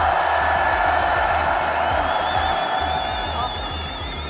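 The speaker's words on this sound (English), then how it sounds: "This crowd is insane." A large esports arena crowd at a Fortnite championship in Décines near Lyon, France, roars and cheers continuously with whoops, loud and dense, while an announcer talks over the noise.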